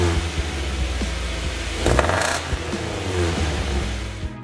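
A Subaru car engine with an upgraded aftermarket exhaust revs up, rising in a short burst near the middle, then settles back to a throaty idle, heard up close and loud.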